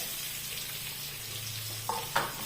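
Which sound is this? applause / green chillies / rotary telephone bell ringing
green chillies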